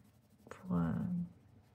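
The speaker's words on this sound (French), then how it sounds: "un feutre acrylique, pardon" An acrylic paint marker is drawn over the eyebrows and lashes of a painted figure, making one short, close scratchy stroke of about half a second in an otherwise quiet room.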